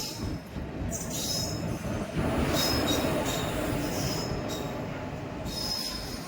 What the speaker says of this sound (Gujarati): તો મિત્રો આપણી ટ્રેન આવી ગઈ છે